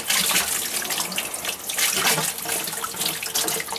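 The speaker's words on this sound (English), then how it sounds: "Oh, more water coming." Water gushes steadily from a sump pump discharge at home, a loud continuous splashing rush lasting several seconds, close by.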